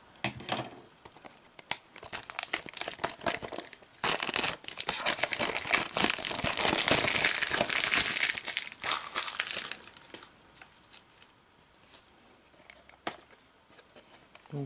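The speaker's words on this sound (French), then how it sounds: "je vais m'aider un peu d'une paire de ciseaux parce que sinon, je vais mettre 1 heure pour ouvrir la boîte" A mystery box being cut open with a pair of scissors, with steady crinkling, crushing and tearing of packaging. The noise is close and continuous and peaks in the middle, then drops to scattered rustles.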